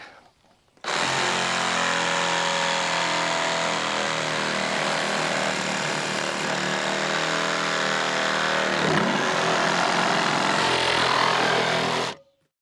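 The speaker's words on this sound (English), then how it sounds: "I'm going to just use a Sawzall, reciprocating saw, and I'm going to cut in the valley." A reciprocating saw cuts through a drainage culvert pipe, its harsh motor whine running steady and loud for about eleven seconds, starting and stopping abruptly with no talk over it.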